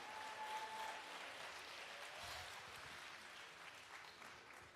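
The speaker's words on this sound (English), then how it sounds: "Give another round of applause for Jada Imani." A crowd applauds at a women's poetry slam with sustained, even clapping from many hands, moderately loud throughout and heard alone with no talking.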